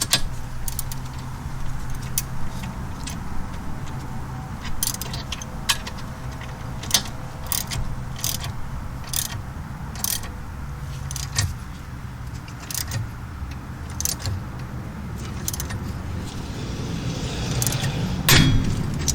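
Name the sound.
tightening a tie rod separator with a 5/8 ratchet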